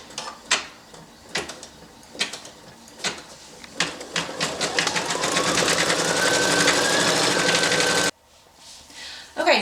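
A Brother Innov-is 1500D embroidery machine stitches a black outline, its rapid mechanical clatter starting with a few sparse ticks, then settling into a steady, loud, close-up whir of the needle before stopping abruptly near the end.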